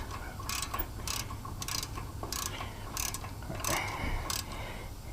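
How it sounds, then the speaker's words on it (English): A wrench tightens a lug nut during brake work on a 2016 Chevy Silverado, giving a series of quick rhythmic ratcheting bursts, about eight short clicking runs spaced evenly and close by. "I'm putting that on that nut, tighten that up"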